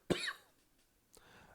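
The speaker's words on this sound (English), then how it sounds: "I'm trying not to cough." A single sharp cough close by, followed by a fainter second cough a moment later in a quiet room.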